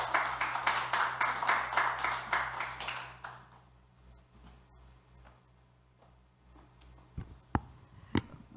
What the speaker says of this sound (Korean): 박수로 맞이해주시면 감사하겠습니다